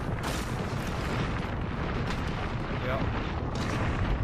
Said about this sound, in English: My airstrike coming down.